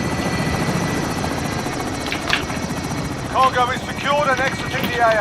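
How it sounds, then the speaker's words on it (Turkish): Helicopter in the Call of Duty Warzone video game, a steady rotor thrum throughout, with voices talking over it in the second half. "Bu da galiba bu helikopterle düşürebiliyorlar."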